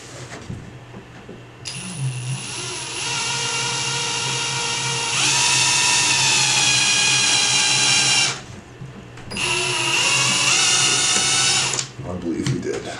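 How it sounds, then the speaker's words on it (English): A power drill whirs at high pitch into a wall in long, steady runs, briefly stopping and starting again, loud and close. "we're going to come right back on our mark with the drill"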